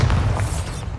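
Bombarda spell blast in Hogwarts Legacy, a single deep booming explosion with a heavy low thump that decays over about a second, loud and near.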